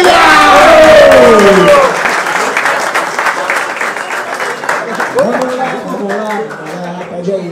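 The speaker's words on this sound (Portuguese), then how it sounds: "palmas pra essa batalha, família!" An audience applauds at the final of a freestyle rap battle, loud close clapping mixed with voices over the first seconds, then easing into lighter scattered claps and crowd chatter with someone talking.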